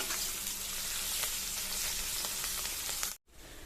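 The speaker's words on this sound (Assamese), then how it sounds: "পিয়াজটো অকন ৰঙচুৱা হোৱালৈকে ভাজি লম" Chopped onion with bay leaves frying in a pan over lowered gas, a steady close sizzle with occasional stirring scrapes that cuts off abruptly near the end.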